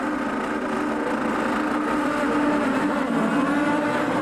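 Formula 3000 race cars at the 2002 European round at the Nürburgring launch from the grid together, a dense, steady roar of many engines blending into one continuous wash of sound with no voices.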